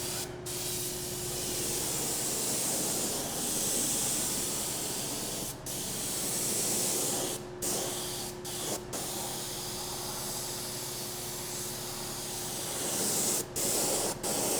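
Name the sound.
squirt bottle spraying paint onto a door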